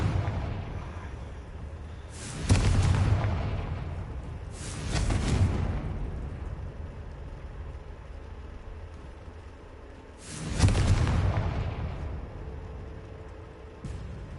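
Confringo blast spells fired in Hogwarts Legacy: three booming explosions with rumbling tails, spaced several seconds apart over a low background hum, no talk.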